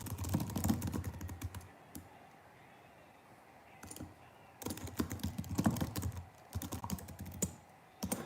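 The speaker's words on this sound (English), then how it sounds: "What are you typing?" Fingers type on a computer keyboard in quiet, irregular bursts of rapid key clicks, with short lulls between runs.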